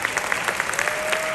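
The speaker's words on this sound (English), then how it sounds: "they'll applaud as we count down" Applause from the audience at a Disney Legend Tony Baxter panel at a fan reunion event, as a steady patter of many hands clapping at moderate distance, with no voices above it.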